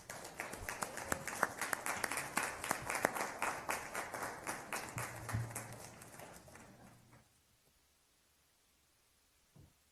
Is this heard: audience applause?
yes